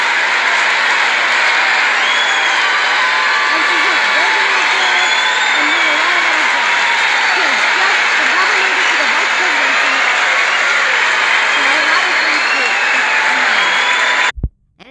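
A convention audience applauds in a large hall, a dense, continuous wash of clapping with cheering woven through it, sustained and loud before cutting off abruptly near the end.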